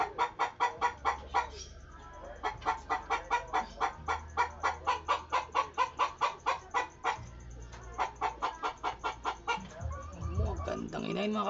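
A laying hen clucks repeatedly in a fast, steady rhythm, close by, with brief pauses and a louder squawk near the end.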